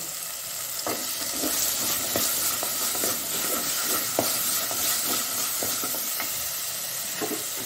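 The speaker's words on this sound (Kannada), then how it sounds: "ಈ ಒಂದು ಕಟ್ ಮಾಡಿದಂತಹ ಬಿಂಬುಳಿ ಪೀಸನ್ನು ಹಾಕೊಳ್ತಿದ್ದೇನೆ ನಾನು" Cut bilimbi pieces sizzle in a pan for a Mangalore-style prawn gravy, a steady hiss broken by irregular scrapes and clicks of stirring, close and moderately loud.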